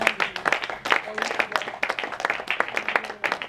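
A church congregation claps and cheers in praise during a Protestant mourning ceremony, with dense, steady rhythmic clapping throughout and voices mixed in.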